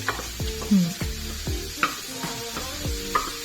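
Onions sizzle in butter left over from frying fish, a continuous hiss broken by repeated scraping and stirring knocks of a spoon against the pan, close and fairly loud with no talking.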